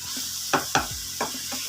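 Spinach and potatoes sizzle in a pan as a spoon stirs them, with a few distinct scraping strokes over a steady soft frying hiss, close up and without speech.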